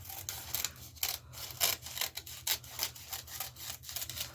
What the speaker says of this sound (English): So then we're just going to cut our excess off.